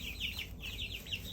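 Songbird chickens squabble close by, with rapid high, scratchy clucks and squawks repeating in quick bursts over a low background rumble.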